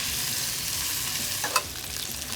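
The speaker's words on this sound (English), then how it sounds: "First, we're gonna sear off the lamb." Lamb loin chops searing in a pan, a steady loud hiss of hot fat with a brief sharp crackle near the end.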